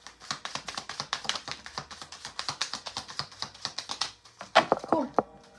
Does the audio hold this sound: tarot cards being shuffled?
yes